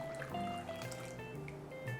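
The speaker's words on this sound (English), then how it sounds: "now I have a cup of boiling water that I'm gonna pour on top of our jello" A cup of boiling water is poured onto red jello powder in a large mixing bowl, a short, steady trickle and splash heard close up.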